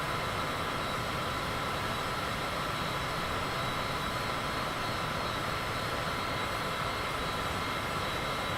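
Steady propeller airplane engine drone from Microsoft Flight Simulator 2024, a continuous broadband hum holding an even level throughout with no talk over it.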